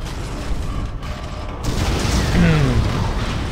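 A rumbling explosion in Dead Space swells up after a brief lull, with a low boom and crackling debris over a busy electronic soundtrack.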